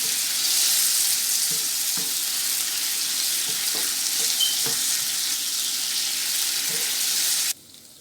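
Chicken frying in a pan for Mexican tacos, a steady loud sizzle with occasional soft scrapes and knocks of stirring, holding for about seven seconds before cutting off abruptly to near quiet.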